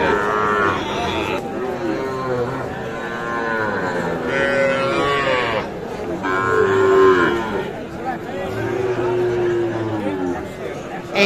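Sahiwal bull calves at a busy cattle market in Mymensingh moo repeatedly in long, drawn-out calls, close and loud, while the crowd chatters and someone talks throughout.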